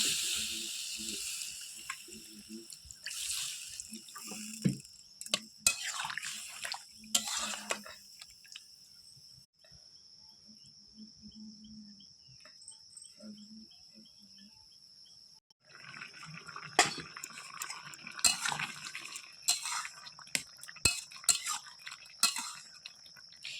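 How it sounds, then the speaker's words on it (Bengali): Water is poured into a pan of cooking mixed-vegetable ghonto curry and stirred, giving a hissing sizzle with spoon clinks and scrapes that drops to near quiet midway, then returns with busier clattering stirs. "এরপরে জল দিয়ে দেবো"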